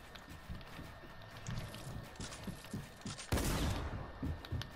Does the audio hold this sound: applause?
no